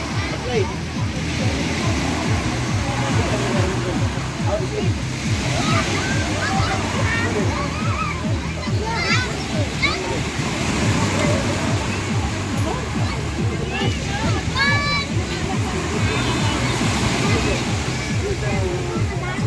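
Continuous sloshing and splashing from swimming in water at Sea Breeze Beach Resort, steady and fairly loud throughout, with voices and children's calls over the water.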